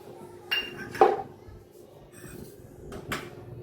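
A pressure cooker pot is handled on the stove while oil goes in to start a peanut and potato farali khichdi. A few brief metallic clinks and knocks stand out over a quiet kitchen background.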